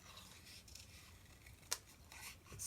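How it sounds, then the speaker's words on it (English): Scissors snipping through card while making a zigzag gatefold card, a soft continuous rasp of blade against paper with one sharp, louder snip partway through, close and alone with no talk. "I'm concentrating on cutting."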